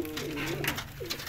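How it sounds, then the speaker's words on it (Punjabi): Pigeons give soft, low, rolling coos, close by and alone, two short phrases in quick succession. "ਬੜੇ ਬੜੇ ਖੂਬਸੂਰਤ ਕਬੂਤਰ"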